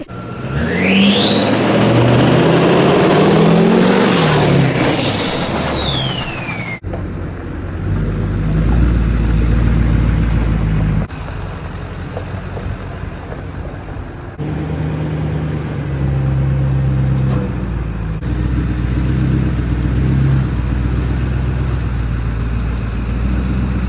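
A 20-year-old Duramax diesel truck engine cranks and starts with a loud rising whine, then settles into a deep, steady idle rumble with a few small changes in pitch, with no talk.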